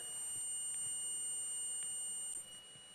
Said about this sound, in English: So it'll beep at me if I have continuity.